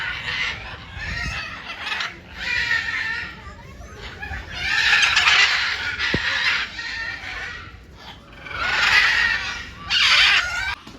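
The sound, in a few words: red macaws calling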